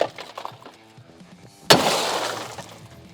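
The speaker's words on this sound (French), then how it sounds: "je vais tester pour la première fois de casser cette fenêtre." A car window smashed in an automobile scrapyard: a sudden loud crack of shattering glass, then a sustained spray of falling fragments over low background noise.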